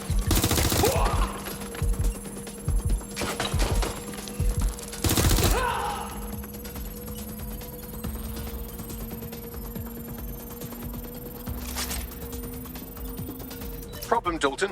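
Gunfire erupts in a shooter video game set in a futuristic London, with loud rapid bursts at the start, the middle and near the end, separated by quieter stretches of mechanical background noise.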